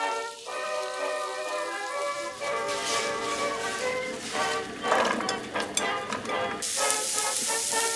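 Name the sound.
vegetables and chicken sizzling while stir-frying in a pan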